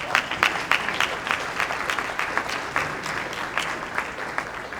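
An audience at the St. Joseph Legacy Gala breaks into applause for a visitor, with moderately loud clapping whose distinct sharp claps stand out in an uneven rhythm over several seconds.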